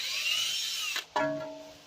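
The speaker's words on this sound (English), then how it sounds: "I'm going to drill it out a little bit more." A power drill bores out a broken bolt so the hole can be re-tapped, a loud steady high whine that dips briefly near the middle before resuming with a lower tone.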